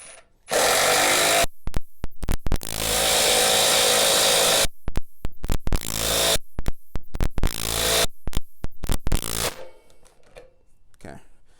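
A Milwaukee impact driver drives a fastener straight into wood without a pilot hole, sounding in loud sustained bursts and rapid rattling hammer pulses separated by short pauses, close up, before trailing off into quieter clicks.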